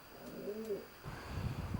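Racing pigeons coo softly inside a wooden loft of young and old birds, a low burbling call rising once then fading, faint and near against quiet room noise.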